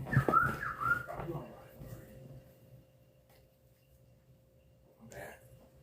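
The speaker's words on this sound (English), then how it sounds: "I was whistling" A person whistles a short two-note tune near the start, fairly faint, followed by quiet room tone and soft talk, with a brief sound burst near the end.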